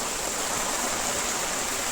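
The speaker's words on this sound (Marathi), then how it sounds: "पाऊस चालू आहे आपल्याकडे जोरदार" Steady heavy rain hisses in a continuous even wash on a farm in Maharashtra, with no voices over it.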